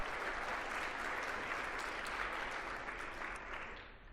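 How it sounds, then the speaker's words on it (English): Steady applause from an audience at a healthcare conference, a continuous even patter of many hands clapping that holds at a moderate level and eases off slightly at the close. "let's give her a round of applause"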